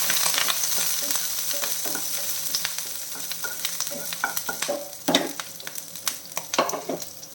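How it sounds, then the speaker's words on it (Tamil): Garlic and curry leaves fry in a hot pan, a bright crackling sizzle that starts steady and turns into sharp spattering pops and scraping stirs, close up and with no voices. "கிளறி விட்டுப்போம்."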